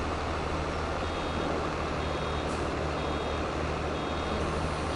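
In Farming Simulator 22, a baler gives off a steady series of faint, high, evenly spaced beeps over a constant loud engine drone, with no talking.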